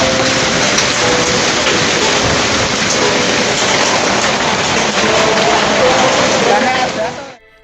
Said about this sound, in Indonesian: Hujan es mengguyur wilayah Karangbendo, Kelurahan Karangrejo, Kota Semarang